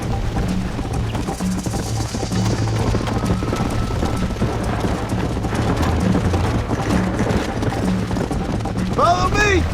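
A galloping horse in Red Dead Redemption, its hoofbeats running continuously under a busy, loud game soundscape, with a few low thuds along the way and a swooping tonal sound right at the end.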